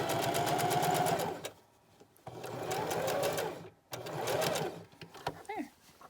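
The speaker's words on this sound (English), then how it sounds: "So we sewed our pipe cleaner in the top of our seam allowance." A sewing machine runs a zigzag stitch over a pipe cleaner sewn into the top of a cloth face mask's seam allowance. It sounds in two whirring bursts, close and loud, with a pause between and a little handling at the end.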